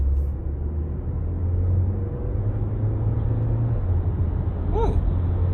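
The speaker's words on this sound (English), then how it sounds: "When you pull away from a junction, all those gear shifts, they sound pretty nice." A 2023 Mercedes-Benz GLA 200 with a 120 kW engine pulling away, its low engine hum rising in steps as it shifts gears, steady and close from the cabin, with a brief chirp near the end.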